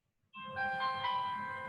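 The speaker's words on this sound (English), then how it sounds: "I think that was the alarm." An electronic alarm starts abruptly after a short silence and plays a bright, sustained, melodic chime pattern at steady moderate loudness, with no voices.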